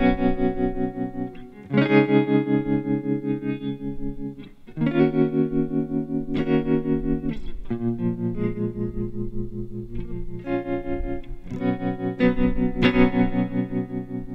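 Electric guitar played through a Valeton Coral Mod modulation pedal on its tremolo setting, sustained chords pulsing in a steady, wide wobble, struck afresh every couple of seconds, loud and close with no talking.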